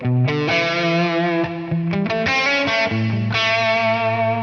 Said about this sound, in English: if we bring this up to 100 milliseconds, there's going to be time before that reverb tail kicks in